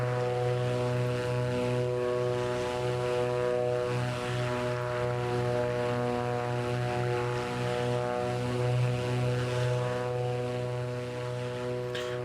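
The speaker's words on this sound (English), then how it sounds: "Turn that engine sound down just a little bit." A Beechcraft Duke 60 twin propeller engine drones steadily in a flight simulator, a loud, even hum with a pulsing low throb that holds unbroken throughout, with no speech.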